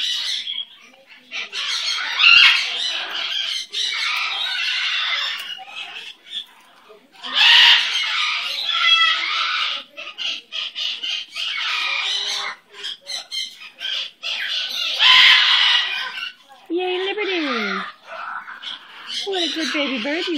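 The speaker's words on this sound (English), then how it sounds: "What a happy bird." A pet parrot-like bird squawks and chatters in repeated bursts, with a voice talking to it throughout; near the end, rising and falling whistled calls come through close and clear.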